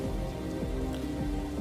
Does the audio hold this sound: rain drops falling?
yes